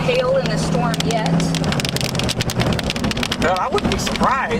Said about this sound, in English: I keep hearing what sounds like large raindrops